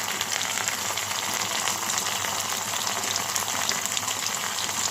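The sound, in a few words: onion frying in a pan with ginger paste and spices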